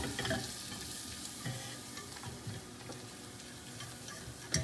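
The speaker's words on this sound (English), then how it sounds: "Get a whisk and stir all this in." A whisk stirs butter and flour together in a pan, giving soft continuous scraping and sizzling with faint ticking strokes, close and steady for a few seconds.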